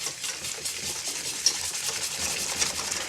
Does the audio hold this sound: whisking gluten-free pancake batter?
yes